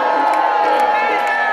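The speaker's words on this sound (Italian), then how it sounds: "E sentiamo subito l'urlo di tutti quelli come me nati negli anni 70!" A party crowd at a summer terrace opening in Rome shouts and cheers together in a loud, continuous roar, steady throughout with no gaps.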